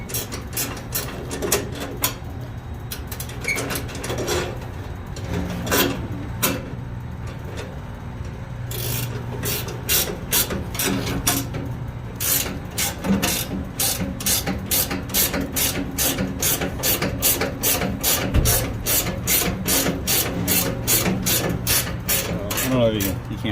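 Ratchet wrench clicking in rapid bursts while unbolting motor mount bolts on a Carrier rooftop HVAC unit during a bearing change, with metallic rattles and scrapes between the close, repeated ratcheting runs.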